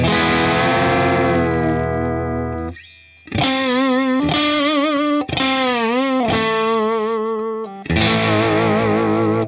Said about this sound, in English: when I press it down, it makes the sound lower, and I can also pull it up